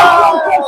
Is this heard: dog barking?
no